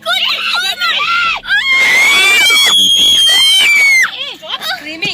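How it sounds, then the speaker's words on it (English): A person screams loudly in a long, shrill, sustained cry during a close encounter with a dangerous animal, surrounded by other agitated voices and short shouts before and after. "Stop screaming!"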